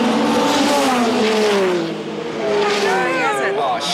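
A race car with no oil pressure laps the circuit, its engine note rising and falling as it approaches and passes with a brief dip in the middle, while people talk excitedly nearby.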